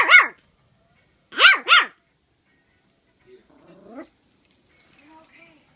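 Dog barking at its own reflection in a mirror: one sharp bark, then a quick double bark close by, followed by softer whines or growls while a person talks quietly.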